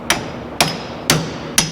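A hammer strikes metal in a welding shop, four sharp, evenly spaced blows about half a second apart, each a bright ringing clang that decays quickly, close and alone.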